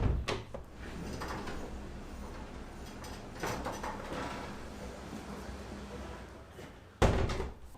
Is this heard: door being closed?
yes